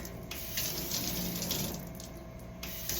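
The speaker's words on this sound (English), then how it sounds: "Our sink is a little finicky because it's sensor, so just bear with me through that." Water pours steadily from a sensor-activated sink tap during hand washing, a continuous close splashing hiss with small shifts as hands move under the stream.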